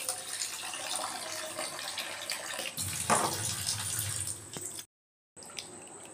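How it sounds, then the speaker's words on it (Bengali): Coarse thick flattened rice (chira) being washed under a running kitchen tap, a steady close splash of water that briefly cuts out near the end and then resumes. "মোটা দানার চিড়েকে একটু ভালো করে ধুয়ে ভিজিয়ে রাখবো।"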